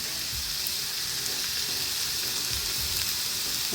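Onions fry in a couple of tablespoons of oil in a pan, giving a steady, dense, close-up sizzle that holds at an even level throughout, with no voices.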